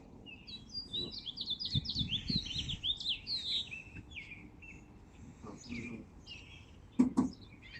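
Morning birdsong of quick, high chirps and tweets rings out close by, with scattered thumps and movement sounds underneath and two louder knocks near the end.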